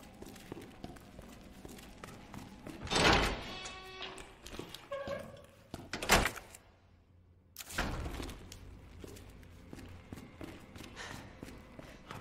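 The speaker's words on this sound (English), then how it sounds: "For your safety, stand clear until the doors are fully open." Sliding doors opening in the Resident Evil 2 video game, with a low mechanical hum underneath and footsteps around them. Several loud whooshing bursts stand out against steady background noise.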